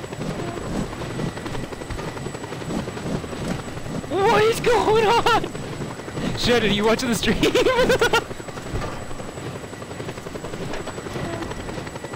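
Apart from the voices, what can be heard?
helicopter in the video game Just Cause 2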